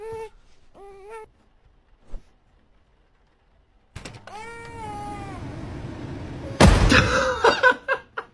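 A cat gives a few short meows, then a longer rising meow after a sharp clatter, followed by a loud burst of noise near the end, all fairly close.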